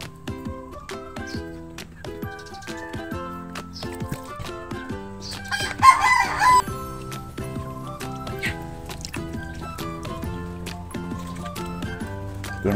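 Large backyard poultry cluck and chatter close by in a busy, continuous flock, with a louder rooster call breaking out briefly midway through.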